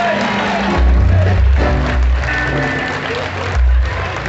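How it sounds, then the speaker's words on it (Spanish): Audience applause at a traditional gaita music gathering, clapping swelling in a couple of loud bursts over a busy crowd murmur, with a voice talking through part of it. "Un aplauso para que eso sea así."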